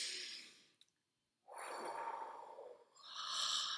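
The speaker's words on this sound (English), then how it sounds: "let's just take a moment and take a few deep breaths" Slow, deep breaths are taken close up: a long airy exhale, a brief pause, then a full inhale and a second exhale, quiet and calm with no talking.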